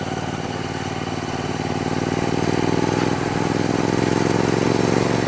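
A Royal Enfield Continental GT 650 twin-cylinder motorcycle with an aftermarket AEW Moto Torque 2-in-1 exhaust idles close by: a steady, throbbing engine note that swells slightly partway through, with no voices over it.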